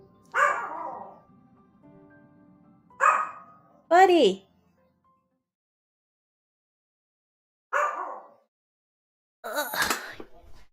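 A pet dog barks in short separate bursts, several close, sharp barks spread out with silence between, plus a higher yelp, while a person briefly speaks once.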